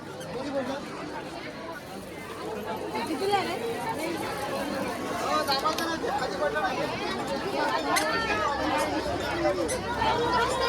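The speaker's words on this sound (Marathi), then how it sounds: "पण गर्दी बेकार आहे" Dense crowd chatter at a busy village fair (jatra) by an old Siddheshwar temple in Gulsunde, Maharashtra: a steady, close babble of many voices with no pauses, filling the whole scene.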